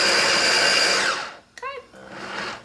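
An immersion blender and food processor whirs loudly and steadily for over a second, then winds down and stops. A short voice and some kitchen noise follow.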